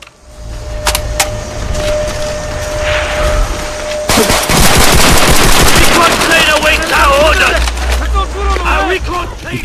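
Rapid bursts of automatic gunfire crackle amid explosions and chaotic battle noise in the video game Call of Duty: World at War, with shouting voices in the mix, loud and dense.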